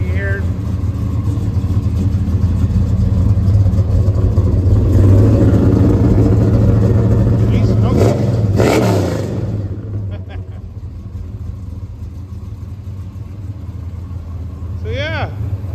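A car engine runs loudly with a surging, revving tone, then settles into a lower steady rumble, heard up close.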